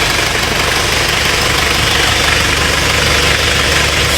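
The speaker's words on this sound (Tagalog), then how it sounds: "ito yung makina niya" An old-model car engine idles in a steady, continuous low rumble with a faint knocking texture, loud and close throughout, with no talking over it.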